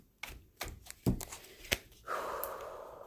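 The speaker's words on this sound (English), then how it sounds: "I like to shuffle them on camera as well." A deck of cards being shuffled by hand during a card reading: a few sharp, separate taps and flicks, then a sustained, papery riffling burr for the final second, close and fairly quiet.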